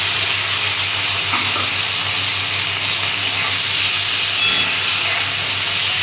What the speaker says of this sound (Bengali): তেলটা গরম হয়ে গেছে, মাছগুলো আমি এবার ভেজে নেব। মাছগুলো আমি ভেজে নিচ্ছি।